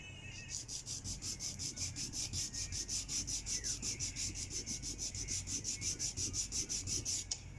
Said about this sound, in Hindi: रेग माल से जो है इसको मैं रगड़ लेता हूँ।